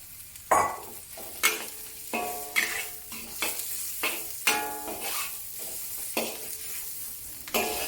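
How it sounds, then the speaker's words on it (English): Spring onions sizzle in a hot wok while a utensil scrapes and tosses them in a steady rhythm of sharp strokes, close up, for a Cantonese ginger pork stir-fry. "Keep stir frying for about a minute until you can smell the aroma"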